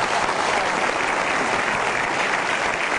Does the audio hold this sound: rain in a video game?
no